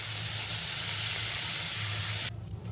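Flattened rice (chire) fries in a pan with a steady, close, hissing sizzle that cuts off suddenly near the end.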